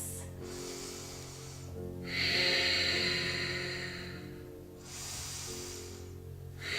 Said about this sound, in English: we take 5 full breaths.